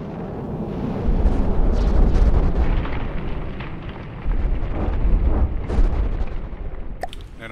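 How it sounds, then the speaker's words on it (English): Missiles explode against a hovercraft in the naval combat game From The Depths: heavy, rumbling blasts roll into one another for several seconds, then a short quieter gap, another sustained burst, and a sharp final crack near the end. "Now I'll just shoot some missiles at it so you see what happens when I don't have the laser dazzler."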